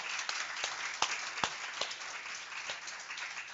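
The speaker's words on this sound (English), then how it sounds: "Let's give them a little round of applause" Small gathering applauding the organisers of a talk, a brief patter of many hands with a few sharper claps standing out, moderately close and fairly quiet, with no voices over it.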